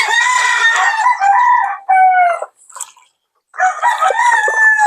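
A fighting rooster crows loudly and close by during its bath, with one long crow, a short pause and a broken call, then another crow. Faint dripping water shows in the brief quiet between calls.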